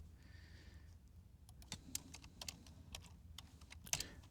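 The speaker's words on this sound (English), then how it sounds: "Type a little bit of HTML in here" Computer keyboard typing HTML, a quick run of close, crisp key clicks in an irregular rhythm after a quiet opening, without talk.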